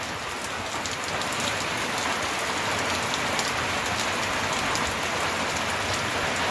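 Steady rain falls in a village setting, a dense, even hiss of drops on surfaces lasting throughout at constant loudness with no voices.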